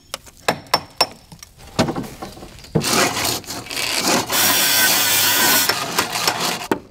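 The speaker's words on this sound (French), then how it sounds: "Et continue ensuite avec le marteau et le burin." Hammer and chisel chip away facade render, first as a series of sharp separate knocks, then as denser scraping and crumbling bursts of rough debris noise, close and fairly loud with no talk over it.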